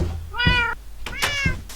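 A cat in Minecraft gives two distinct meows in quick succession, clear and close, with faint background sounds between them.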